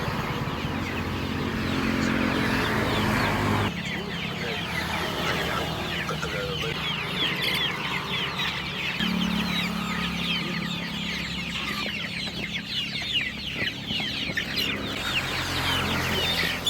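Several chickens cluck close by at a roadside chicken seller's stall in an ongoing chatter, with a faint voice and background noise underneath.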